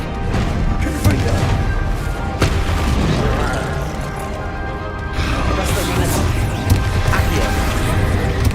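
Confringo fire-blast spells from Hogwarts Legacy explode repeatedly in a dense, loud game battle, crashing booms layered over constant rumbling effects and music with no clear pauses.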